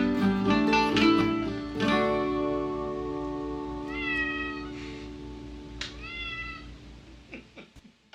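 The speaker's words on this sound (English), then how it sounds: "There's the cat at the end making the debut." A domestic cat meows several times close by, drawn-out rising and falling calls over a sustained, steady musical tone in the background.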